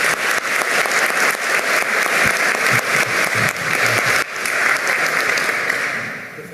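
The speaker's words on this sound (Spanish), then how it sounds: "Fuerte las palmas" Sustained, dense applause from a ceremony audience at a Peruvian National Police honors event, steady and full for several seconds with a brief dip midway before it fades toward the end.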